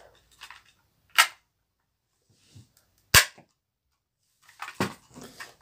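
Gunshots at an outdoor shooting range, two sharp loud isolated reports a couple of seconds apart, followed by a third shot amid scattered faint clatter and movement.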